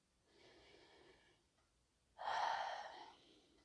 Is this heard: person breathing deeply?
yes